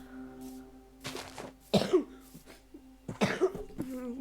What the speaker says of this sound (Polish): od czasu do czasu mogę kaszlnąć